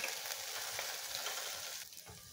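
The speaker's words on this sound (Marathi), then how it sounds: "थोडासा वाटाणा आपण परतून घेऊ, जास्त नाही परतायचं" Fresh green peas sautéing in a hot pan, a steady, close sizzle with faint stirring that softens slightly near the end.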